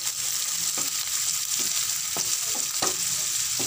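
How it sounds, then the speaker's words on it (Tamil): Chopped onion and green chili frying in a pan over medium flame, a steady close sizzle with a few sharp stirring clicks and scrapes scattered through it. "லைட் கோல்டன் கலர் வர வரைக்கும் நல்லா வதக்கி விடுங்க."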